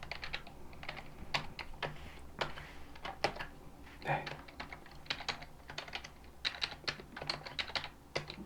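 Steady typing on a computer keyboard, quiet but close, with irregular bursts of key clicks and brief pauses throughout.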